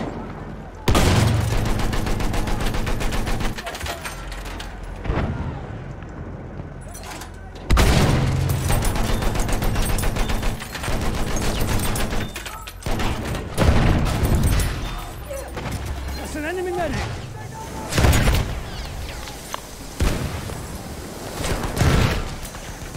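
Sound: machine gun and artillery fire in a video game

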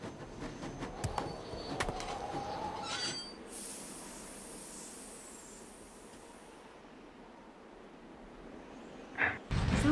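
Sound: train departing from the station, from Nancy Drew video game

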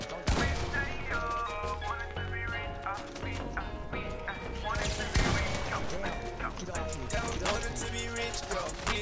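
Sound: gunfire in Fortnite video game

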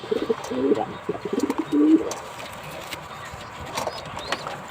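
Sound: pigeon hen cooing

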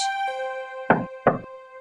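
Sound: wolf knocking on a door in a cartoon

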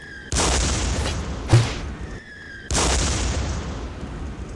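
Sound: mortar grenade launcher firing in video game Day of Defeat

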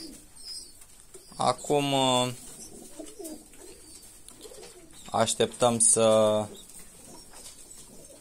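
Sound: pigeons cooing in a pigeon loft

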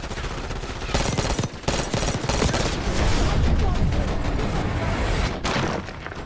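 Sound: gunfire in Black Ops 6 video game

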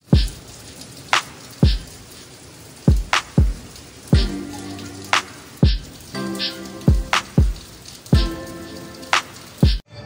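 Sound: heavy rain falling

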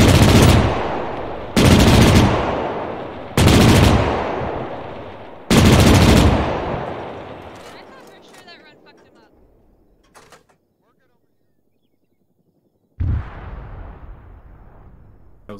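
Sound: gunfire and explosion in Arma 3 video game

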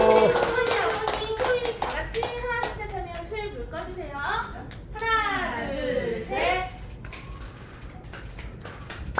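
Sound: clapping at a birthday celebration

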